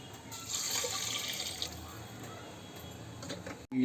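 Water poured from a glass into a pressure cooker holding rice, a soft splashing stream heard close for a few seconds before it trails off.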